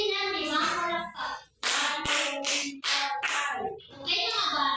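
Children in a classroom clap in a quick burst of about five sharp claps, with a voice and the teacher's talk heard around them.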